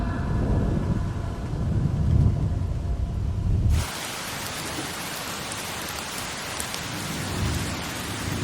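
Rain falls heavily with deep thunder rumbling low for the first few seconds, then a steady, hissing downpour continues alone and close.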